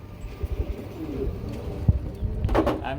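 Pigeons coo softly at a pigeon farm, low murmuring calls repeating under faint fluttering and handling noises close by.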